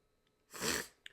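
A single sneeze brought on by allergies and hay fever, close and fairly loud, rising sharply and trailing off in about half a second, followed by a brief sniff or breath.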